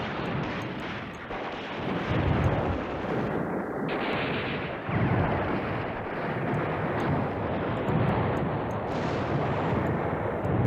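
Continuous artillery fire support rumbles through the Command Ops 2 wargame: dense, overlapping booms and bursts form a steady, noisy roar with small swells and no clear gaps.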